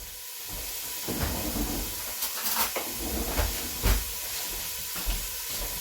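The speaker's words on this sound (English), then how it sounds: "You hear that sizzle? That's the oil heating up my celery and my onion." A steady hissing sizzle of oil frying celery and onion in a pan, with occasional louder crackles and pops, close and moderately loud.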